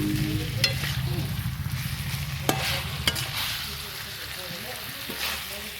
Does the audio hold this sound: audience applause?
no